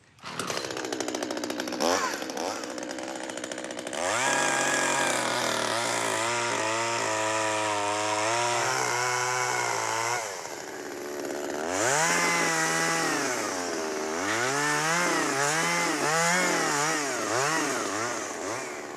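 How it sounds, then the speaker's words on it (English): A chainsaw roars close by, cutting down a rotten tree, its engine revving up and down in surges as it bites into wood, with brief drops between cuts. "so we're going to do it with a chainsaw."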